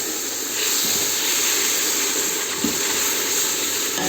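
Loud, steady hiss and sizzle of water hitting a hot pan of semolina over high heat for halva, with a few faint scraping stirs underneath and no voices.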